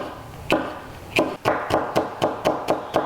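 A knife dices jalapeno on a cutting board in steady, sharp chops, about nine crisp knocks spaced roughly a quarter second apart, close and clear with no talking.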